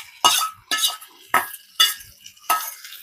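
A spoon stirs onion and green masala paste in a pan, five distinct scraping strokes in an even rhythm, each a sharp sizzling rasp that fades between stirs.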